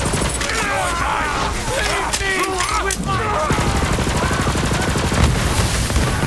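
Dense, continuous gunfire in the Borderlands 3 video game, with rapid repeated shots and bursts layered over game effects, staying loud and busy throughout.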